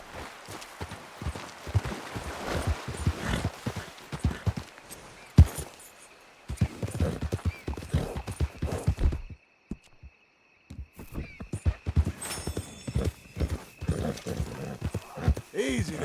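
A horse in Red Dead Redemption 2 walks with a steady clip-clop of hooves close by, mixed with game sounds and a short quiet gap. Voices talk over parts of it.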